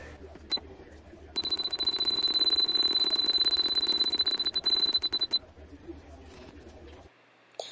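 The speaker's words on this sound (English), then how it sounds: "then we're going to set the timer back up to 6 minutes" An Instant Pot pressure cooker gives a few short beeps, then a steady high-pitched tone holds for about four seconds under kitchen background noise and a voice.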